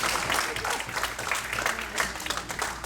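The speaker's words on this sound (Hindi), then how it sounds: "इतनी खुशी की ताली हो जाए जरा जोर से" An indoor audience claps steadily through a Guru Purnima celebration program at a community centre, dense and continuous, loud and fairly close.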